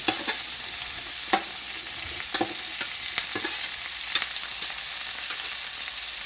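Shallots fry in a pan with a soft, steady sizzle, while a spoon scrapes and taps against the pan in irregular stirring strokes, close and fairly quiet, with no speech.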